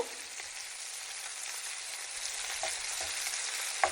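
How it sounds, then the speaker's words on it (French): Beef meatballs for an Algerian-style dish sear in a hot pan over a lively flame, giving a steady, close, dense sizzle with faint crackles throughout. "Faut bien saisir la viande."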